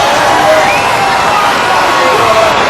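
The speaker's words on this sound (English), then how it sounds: "This crowd has gone nuts. They are rampaging." A wrestling arena crowd cheers wildly in a loud, unbroken roar at a British Bulldog versus Berzerker match, with a commentator speaking over it.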